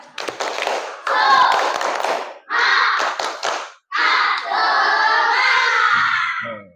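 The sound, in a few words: class doing a rhythmic spirit clap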